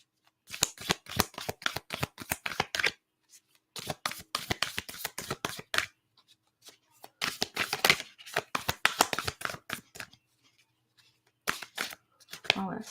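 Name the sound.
shuffling a deck of cards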